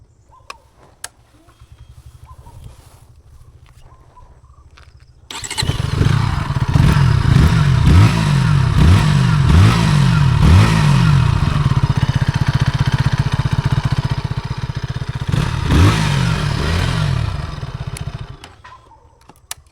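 KTM Duke 160 motorcycle engine starting up close and loud after a quiet idle-like lead-in, then a rough idle with several sharp throttle blips through the exhaust before shutting off.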